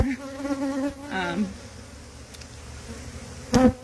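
A honey bee swarm from a backyard tree buzzes close by, with individual bees droning past in wavering passes, louder near the start and again near the end, over a quieter background hum.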